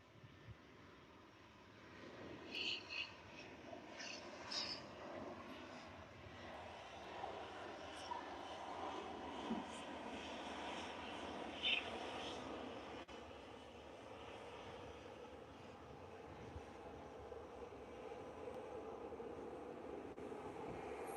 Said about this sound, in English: Yep, that's the easyJet down.